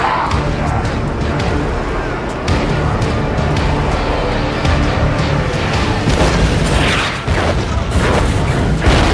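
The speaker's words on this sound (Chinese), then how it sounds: "巨大的爆炸硬生生炸开一条血路" Deep booming explosion in a zombie film, loud and rumbling, followed by crackling debris and continuing roar that swells again near the end.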